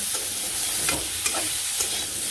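Pointed gourd (potol) frying in oil in a pan in a village kitchen, a continuous bright sizzle broken by a few quick stirring scrapes and taps, close and unaccompanied by speech.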